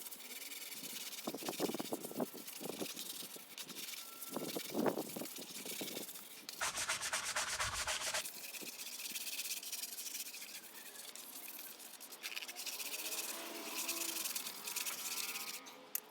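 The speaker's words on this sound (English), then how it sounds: "And just like before, we're going to go ahead and scrub it." Rubber car floor mats from a Camry XSE are scrubbed with a brush and cleaning chemical, producing close, uneven scratchy strokes with bursts of spray-like hiss between them.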